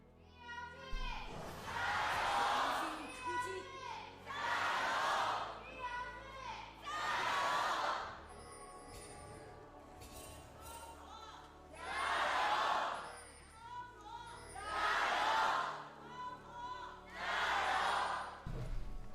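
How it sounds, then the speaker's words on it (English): A live esports arena crowd at an LPL League of Legends match chants in rhythmic surging bursts, roughly six loud waves of massed voices separated by quieter gaps, heard from a distance. "Some good cheers there from the crowd"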